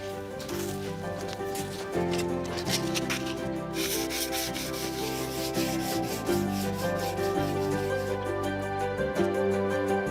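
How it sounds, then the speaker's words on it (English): Steady, scratchy rubbing of fine sandpaper on wood continues throughout, close and even, with a faint hum running underneath. "I'm going to start off by sanding this with a fine sandpaper"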